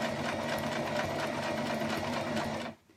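A sewing machine runs a steady zigzag stitch through fleece, a continuous even whirring hum with fast rhythmic ticking that stops abruptly near the end, with no talking.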